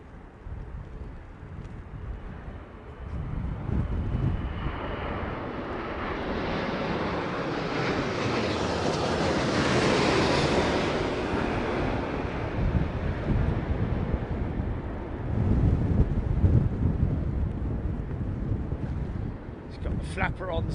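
An Aeromexico airliner comes in to land in the strong wind of Storm Darragh, its jet roar swelling and fading across twenty seconds under heavy wind buffeting on the microphone.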